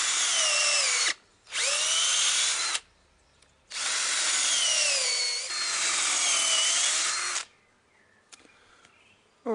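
Three close, loud bursts of a power drill boring holes about an inch deep into wood, the last one longest, with brief pauses between and a few soft knocks afterward.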